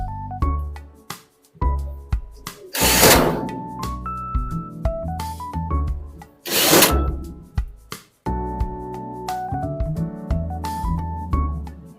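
Power screwdriver driving screws into the panels of a five-door full steel wardrobe, with whirring motor runs, metallic ringing and knocks, and two bursts of harsh noise, all fairly close and loud.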